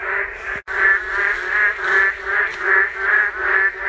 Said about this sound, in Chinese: 得有上万只的青蛙一直在叫